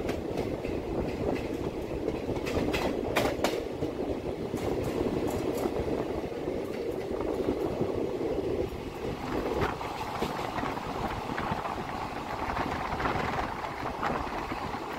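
The Hazarduari Express rolls along the rails on the Kolkata line with a loud, continuous rumble close by, broken by sharp clicking wheel beats and rattling carriages throughout.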